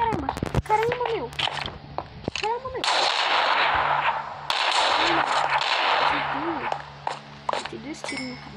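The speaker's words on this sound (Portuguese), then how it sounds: "o Gui tá dando tiro" Sharp gunshots crack in the game Minecraft, sporadic single bursts and a denser stretch of rapid fire, mixed with excited voices talking and shouting over the action.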